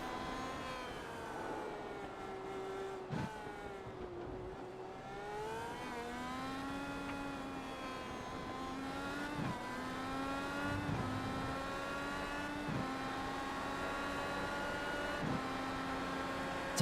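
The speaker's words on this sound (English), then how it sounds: "It's interesting just listening to the engine there." An IndyCar race car engine on the Indianapolis road course drones steadily through the gears, its pitch climbing and falling with upshifts and downshifts, heard loud and close from an onboard position.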